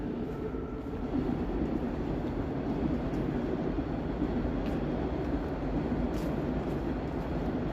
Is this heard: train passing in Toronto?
yes